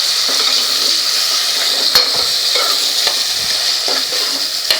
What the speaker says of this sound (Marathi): हे आपल्याला 2 मिनटं परतून घ्यायचं आहे वाटण, तेल सुटू द्यायचं आहे छान मस्त।